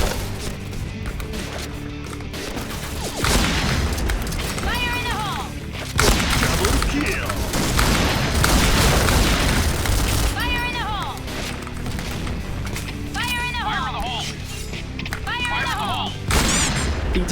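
Shots from an L115A1 sniper rifle in the video game Point Blank ring out amid loud game noise and booming impacts, with someone talking over the action throughout.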